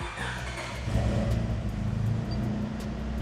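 A lowered sixth-generation Honda Civic's engine hums and revs steadily, a close, loud mid-pitched drone that swells slightly partway through, with no talking.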